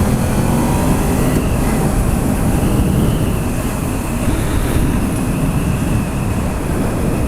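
A 2007 Honda VFR 800 motorcycle at riding speed gives a steady, loud roar of engine and rushing wind that holds constant throughout, with no talking.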